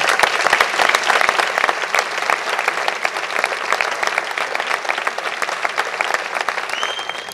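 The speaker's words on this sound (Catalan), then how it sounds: "Aplaudiment." A crowd claps steadily and enthusiastically, a dense, even wash of applause that holds for several seconds without fading.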